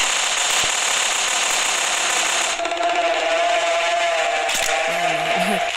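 Rapid, dense bursts of gunfire from a video game crackle for a few seconds, then give way to lighter clattering and a brief voice-like sound.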